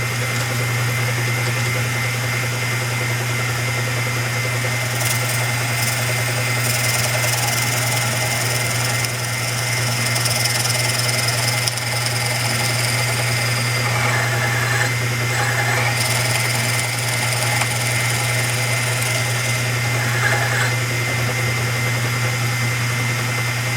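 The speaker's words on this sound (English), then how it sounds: "we're going to go ahead and drill this one hole" A power drill bores a hole through wood during model railroad module assembly, a steady loud motor drone running continuously for the whole stretch with no voices.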